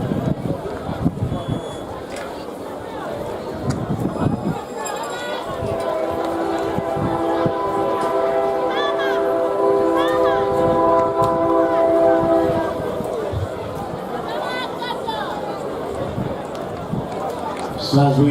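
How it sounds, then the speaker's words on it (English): Diesel train on the Kingston to Balaclava and Montego Bay line in Jamaica, its long horn blast sounding in the distance behind a track meet announcer's continuous commentary. "So as we hear the train in the backdrop, Kingston to Balaclava, and Montego Bay, the diesel as well."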